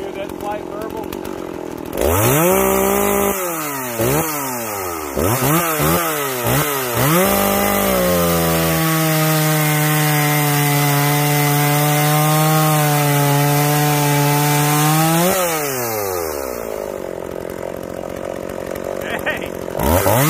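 A Jonsered 490 chainsaw is cutting wood. It revs up and down in quick bursts, then holds a loud, steady high-pitched whine through the cut before dropping back to idle.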